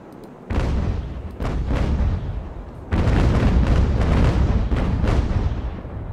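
Broadside cannon fire from sailing warships in Ultimate Admiral: Age of Sail, heavy booms rolling in several waves, with a big sustained salvo in the second half.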